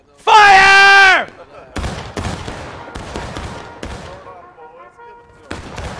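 Musket volleys crack out across a Civil War battlefield in War of Rights: a long shouted order is followed by a ragged string of sharp, loud shots at irregular intervals, mixed with distant yelling from soldiers.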